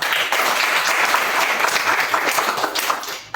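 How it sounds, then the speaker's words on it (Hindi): An audience at a talk breaks into loud, dense applause that holds steady for a few seconds before tapering off. "ताली बजा दीजिए"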